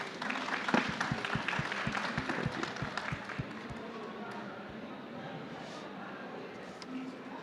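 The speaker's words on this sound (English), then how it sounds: "Big round of applause for Oswald, please." An audience at a founders' policy event applauds, the clapping strongest in the first few seconds and then thinning into a softer, fading patter across the room.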